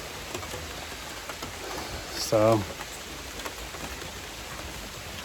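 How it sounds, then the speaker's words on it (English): Heavy rain pours steadily in the woods outside an off-grid cabin under construction, a constant broadband wash with a brief spoken word partway through. "I didn't know it was gonna rain"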